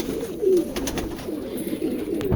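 A pigeon coos softly close by in a low, rolling murmur while it settles down toward its cage, with faint background noise and no talking.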